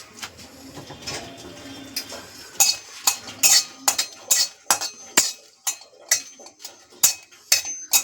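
Spices dry roasting in a wok on a gas stove bring a quick series of sharp metallic clinks and scrapes as a spatula stirs them, irregular and fairly close.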